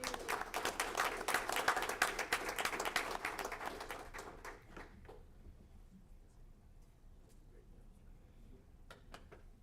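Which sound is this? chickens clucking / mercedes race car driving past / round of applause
round of applause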